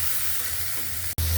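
Leafy greens frying in a pan with chopped garlic, onion, green chili and small shrimp give a steady, moderate sizzle, broken by a brief dropout before the hiss returns slightly louder.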